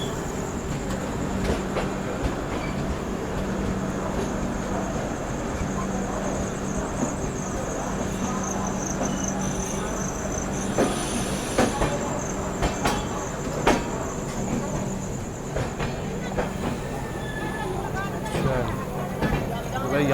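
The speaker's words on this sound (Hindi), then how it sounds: "इधर अपना अराइवल होता हुआ वीरांगना लक्ष्मीबाई झांसी रेलवे स्टेशन पे।" Grand Trunk Express passenger train pulling into Jhansi railway station, a steady rumble with rail clatter and faint squeals throughout, under station ambience and voices talking nearby.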